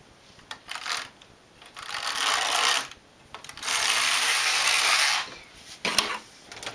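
A Neva-2 domestic knitting machine knits a row: the carriage slides across the needle bed in two long rasping, whooshing passes, framed by shorter scraping strokes and clicks, close and fairly loud, with no talking.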